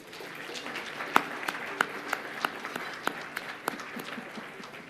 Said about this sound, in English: let's give all our sponsors and partners a round of applause